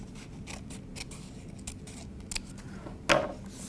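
Scissors snip through paper while tangram pieces are cut, making faint, soft, intermittent blade sounds with one sharper, louder cut near the end.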